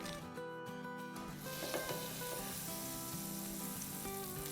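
Oil and butter sizzle gently in a preheated pan on low heat, a soft continuous hiss running beneath a steady music bed for the whole stretch.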